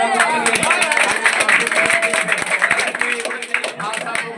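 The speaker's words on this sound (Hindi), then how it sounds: "आज जोरदार तालियों का स्वागत करें।" An audience claps at a village institute's prize ceremony for board exam results, the scattered clapping mixed with voices and other sound throughout.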